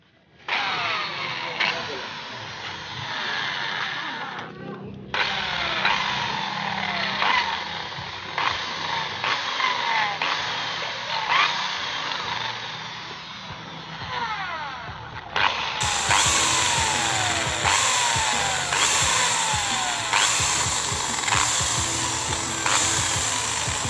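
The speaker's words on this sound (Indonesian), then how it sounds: "Nah, ini kita coba bor dulu." A power drill whines in repeated bursts, pitch rising and falling as it bites into a metal nozzle hole, close and loud, with brief pauses between runs.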